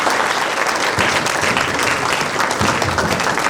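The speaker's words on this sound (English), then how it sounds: "This is standing ovation for the guest lecturer of today." A lecture hall audience gives a standing ovation to a guest lecturer, a dense, loud, continuous wash of applause filling the room without pause.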